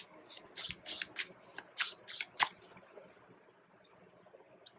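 Tarot cards are shuffled and drawn in a Hindi tarot reading, with a series of close, crisp riffling and slapping bursts that taper off into quieter handling sounds, without clear talk over them.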